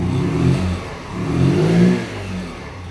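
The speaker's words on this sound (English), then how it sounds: "I'll do a little bit of a rev." Fosti F50 motorbike engine blipped in two short revs, a throaty mid-pitched growl swelling and easing back while idling nearby, with no talking.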